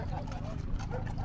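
Hooves of a mule being broken in clip-clop close by at a festive gathering, steady and muffled under people talking.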